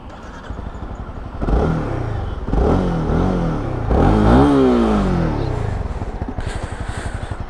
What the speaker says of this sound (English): So let's give you a little bit of the exhaust note.